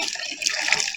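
Water gushes from a hand pump at a well in Liberia, a close, steady splashing flow with no voices.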